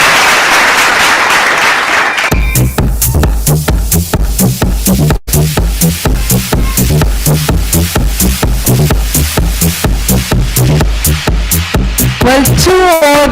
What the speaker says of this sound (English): Let's give them a big round of applause as we welcome them on stage